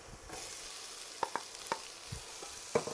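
Onions and peppers dropped into a hot pot for a one-pot cowboy rice dish, a soft steady sizzle with a few scattered stirring knocks and taps, close and fairly quiet.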